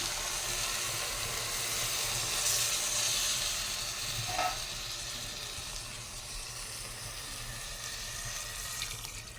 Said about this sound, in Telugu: కూర తాలింపు పెట్టడం అయితే పూర్తయింది